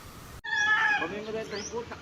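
Chickens cluck and squawk close by in a short, busy burst of calls, with a faint bit of background noise.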